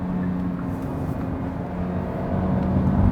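A 1.6-liter gasoline engine in a 2021 Hyundai Elantra hybrid hums steadily while driving at night, a continuous low drone with road noise that swells slightly toward the end.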